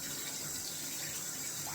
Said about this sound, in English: Rinse off the hand.